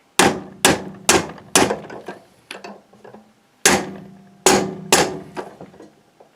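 A hammer drives a metal tube to seat a crankshaft bearing on a DT 50 R engine: seven or eight sharp, ringing metallic blows in two uneven bursts separated by a short pause, close and loud.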